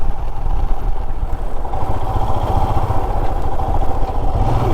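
A motorcycle engine drones loudly and steadily while riding through Malshej Ghat in the monsoon, a constant close rumble with rattling and wind noise throughout.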